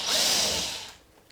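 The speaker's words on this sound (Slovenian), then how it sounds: "Zdaj gremo odmontirati še na vsaki strani tele vijake, ki držijo gor kuhališče." A power screwdriver whirs briefly and loudly, removing the side screws that hold an oven's cooktop in place, then winds down to quiet.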